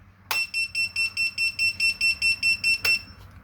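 A piercing FPV drone buzzer chirps in a rapid, even string of about a dozen short beeps, framed by a sharp click at the start and end.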